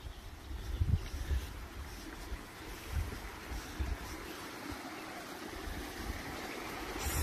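Water flows through a forest creek in Norway, a steady, broadband rush that continues evenly throughout, with a few low bumps and no voices.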